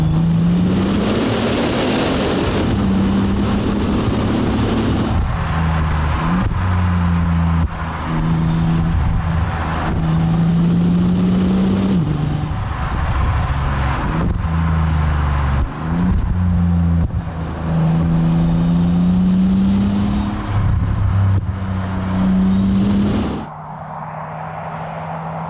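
A 2010 Bentley Continental GTC Supersports engine roars loud and close, dropping a gear and then pulling hard through several rising revs, with short lifts between them before the note cuts away at the end.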